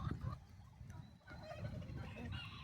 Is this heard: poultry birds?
yes